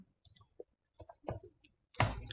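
Typing on a computer keyboard while entering a search, a quiet irregular patter of separate key clicks ending with a louder final press, close by with no talking.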